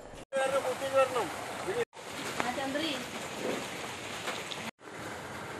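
Heavy, continuous rain pours down during flooding, making a steady broadband hiss that is cut by brief silent gaps. Voices can be heard over the downpour.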